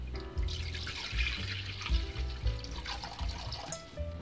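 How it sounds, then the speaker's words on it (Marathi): Water poured into a kadhai on a lit gas stove before cooking spinach: a steady liquid splashing and trickling sound with a few louder gulps, close and continuous, no talking. "कढईमध्ये पालक शिजण्यासाठी आपण थोडंसं पाणी टाकणार आहोत"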